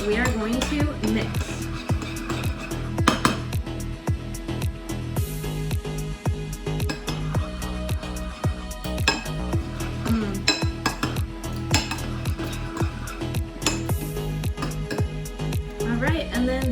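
Caesar dressing being scooped and mixed in a bowl, with rapid repeated clinks and scrapes of a utensil against the dish, close and busy, under occasional talk.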